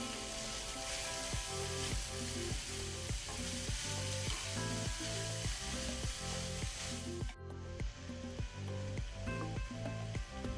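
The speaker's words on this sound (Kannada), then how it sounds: "ಒಳ್ಳೆ ರೀತಿ ಒಮ್ಮೆ 30 ಸೆಕೆಂಡ್ಸ್ ಇದನ್ನು ಫ್ರೈ ಮಾಡ್ಕೊಳ್ಳೋಣ" Radish and dill leaves frying in a pan, a loud continuous sizzle with steady stirring scrapes, close and uninterrupted.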